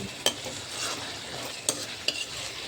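Tomatoes sauté in a pan for seer fish curry, a soft steady sizzle broken by three sharp spoon taps against the pan, close and brief.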